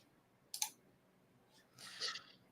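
Sharp computer mouse clicks, a quick pair early on and another burst later with a final click at the end, close and fairly quiet in an otherwise still room.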